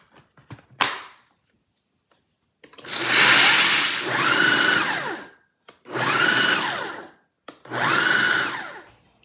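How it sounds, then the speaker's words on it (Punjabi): An electric grinder blends peanuts into a coarse powder in four loud, close pulses, each a few seconds long with short gaps between, after a sharp click near the start. "ਹੁਣ ਆਪਾਂ ਇਹਦਾ ਪਾਊਡਰ ਬਣਾ ਲੈਣਾ ਗ੍ਰਾਈਂਡ ਕਰਕੇ"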